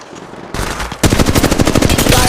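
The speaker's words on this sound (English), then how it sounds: "They're shooting at me." Rapid automatic gunfire in the Apex Legends Mobile game, starting with a few quieter shots and then bursting into loud, sustained rattling fire for over a second, close and dominant.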